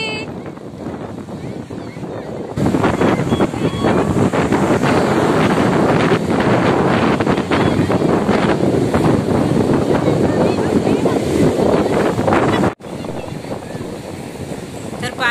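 Arabian Sea waves wash up on Dahanu beach on a crowded holiday, a continuous loud broadband roar of surf with heavy wind buffeting the microphone that rises sharply partway through and drops briefly near the end.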